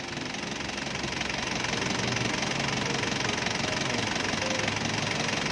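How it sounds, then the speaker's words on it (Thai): A 1997 Nissan Big M pickup idles while parked in the shade with its hood open. The air conditioning runs weak, and the engine's steady, loud, dense rumble and knock carry through the whole stretch with no talking. "อันนี้จอดฟรีเครื่องอยู่ในร่มนะครับ ไม่ปิดฝากระโปรง"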